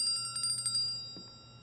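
A bright chime from an ophidian chime instrument item in Life is Strange True Colors rings in a quick run of metallic strikes, then fades out over a low hum.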